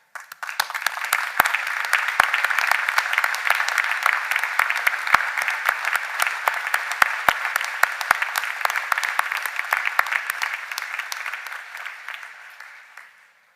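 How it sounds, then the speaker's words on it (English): Sustained applause from a large commencement audience recognizing faculty, a dense, even wash of clapping rising quickly, holding steady for over ten seconds, then tapering off. "I invite the members of our faculty to stand and be recognized with our applause."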